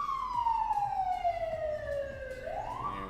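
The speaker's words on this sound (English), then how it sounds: "Is that music? Nope, that is Siren here in town." An emergency siren wailing through town, one long falling tone that sweeps back upward at the end, fairly faint and distant against low background noise.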